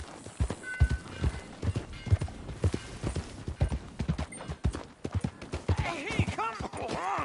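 Horse hooves clip-clop in an irregular trot in Red Dead Redemption 2, close and distinct throughout, with a voice speaking over them near the end.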